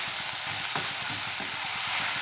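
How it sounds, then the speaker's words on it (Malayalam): Chicken curry masala with curry leaves, onion, ginger and garlic frying in a pan, a steady close sizzle with rhythmic stirring scrapes throughout. "ഇനി ഇതെല്ലാം കൂടി നന്നായിട്ടൊന്ന് ഇളക്കി കൊടുക്കാം കേട്ടോ നമുക്ക്."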